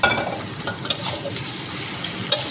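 Noodles with oyster sauce are stir-fried in a pan, giving a close, continuous sizzle broken by a few brief scraping and clinking stirs.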